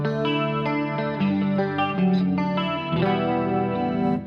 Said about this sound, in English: You can hear the reverb now.